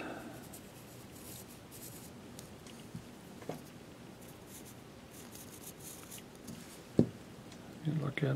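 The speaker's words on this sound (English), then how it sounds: "I want to use this pencil to thin it out a little more." A pencil scratches and scrapes in short strokes across carved Indian corn, quiet and close against a soft room hiss, followed by a couple of sharp taps and rustles near the end.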